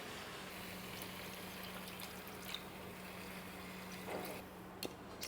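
Water is poured into a stew pot in a home kitchen, giving a faint, steady, low-level trickle with a few small splashes and nobody talking.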